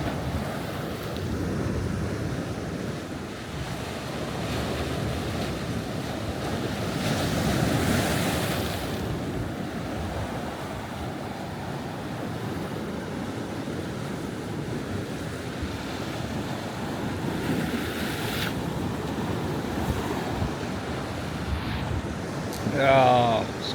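Waves of an incoming tide washing onto a beach on a summer evening, a steady surf wash with wind buffeting the microphone and occasional voices in the background.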